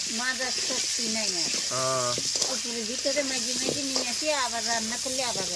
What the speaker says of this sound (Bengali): এখন আলু ভাজা হোক